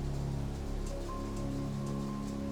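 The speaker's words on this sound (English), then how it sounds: "raindrops on the roof, a soothing symphony that lulls you into a state of relaxation" Steady rain patters on a roof and against a window, a continuous close, even wash of drops with no voices.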